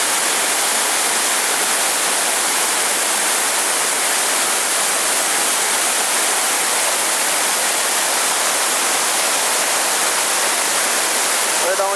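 The Cachoeira dos Padres waterfall in Alto Araguaia, Mato Grosso, gives off a loud, constant roar of falling water. The dense, unbroken rushing fills the whole stretch without pause.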